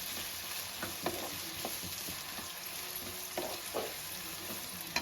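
Onions and mint frying in a pan for mutton biryani make a continuous, even sizzle close by, with light scrapes and taps of stirring scattered across it and no voices.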